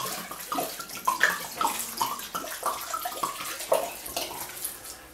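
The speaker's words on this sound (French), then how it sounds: "Et ensuite on va envoyer notre vin dedans." Red wine poured from a bottle into a pot over beef for bourguignon, a close, gurgling liquid stream with uneven splashy bursts throughout.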